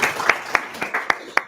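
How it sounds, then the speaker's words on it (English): A small audience at a data talk evening claps in a brief burst of applause, with a few sharp individual claps standing out over a modest crowd. "we give you another huge round of applause"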